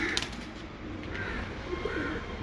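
Pigeons at a breeder's loft, including a large pigeon, give a few soft, low coos near the end of a short stretch of steady background noise.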